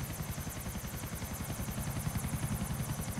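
Helicopter in Grand Theft Auto IV, a steady rotor chop with rapid thumping beats and a constant high whine, close and loud throughout with no talk.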